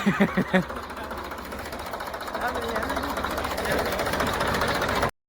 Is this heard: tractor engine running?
yes